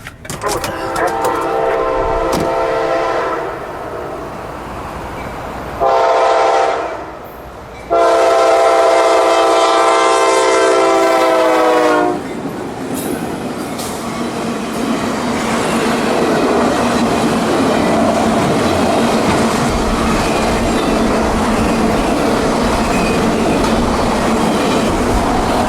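A CSX freight train approaches a road crossing near Lake Panasoffkee, Florida, sounding loud, sustained blasts on its multi-tone horn, then rumbles past close by with a continuous roar of rolling wagons.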